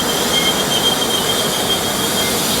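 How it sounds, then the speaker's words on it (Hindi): The Coimbatore Jaipur Superfast Express departs and overtakes on the adjacent line, a loud, close, continuous rumble of wheels on rails with a thin high squeal running through it. "कोयम्बटूर जयपुर सुपरफास्ट एक्सप्रेस यहाँ पे अपना क्या बोलते हैं डिपार्चर लेती हुई अपने से आगे जा रही है ओटी करते हुए"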